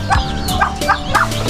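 Turkeys on a small poultry farm in the morning give out several short gobbling bursts at a steady rhythm, close by and fairly loud, with other fowl around and no talking.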